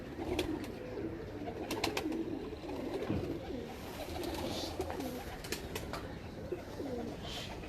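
Breeder pigeons cooing in a loft, repeated soft low coos close by in a steady rhythm, with a few sharper clicks and light rustles around them.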